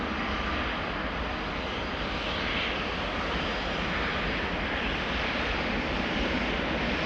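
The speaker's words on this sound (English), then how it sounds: "A321neo from KLM over here, lining up." A KLM Airbus A321neo jet lines up for departure at Amsterdam Schiphol, its engines a steady, broad roar held at a constant level throughout, with no talk.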